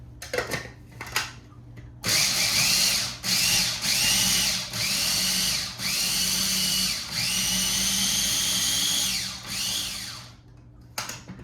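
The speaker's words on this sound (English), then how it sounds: "So super easy with a little food processor to make this finely chopped broccoli slaw" Small food processor chopping broccoli finely for slaw, a loud whirring motor running in several close bursts with short pauses between pulses.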